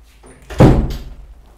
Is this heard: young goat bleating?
no